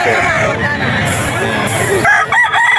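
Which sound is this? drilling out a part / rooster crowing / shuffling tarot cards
rooster crowing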